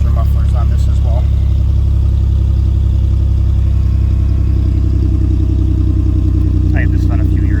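A car exhaust fitted with Flowmaster mufflers gives a loud, continuous low rumble at idle, and faint voices are heard over it.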